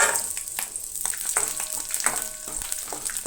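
Garlic frying lightly in hot oil, a close, busy crackle of small pops and spits with irregular stirring clicks, moderately loud and with no talking over it.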